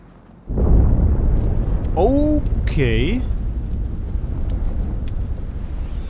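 In the video game A Plague Tale: Innocence, a heavy explosion erupts suddenly into a deep, sustained rumble that fades slowly, while a voice briefly speaks over it.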